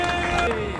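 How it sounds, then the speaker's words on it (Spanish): Crowd clapping at an Andalusian trial motorcycle championship awards ceremony in Posadas, a brief burst of dense applause mixed with crowd murmur and a voice over it. "Ahí está, un fuerte aplauso para él."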